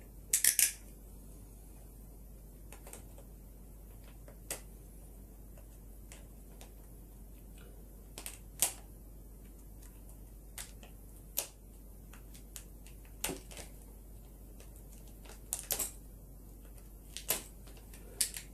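Sharp, irregular crinkles and snaps of plastic packaging being torn open on Align Trex 470LP helicopter main blades nearby, scattered bursts over a quiet background.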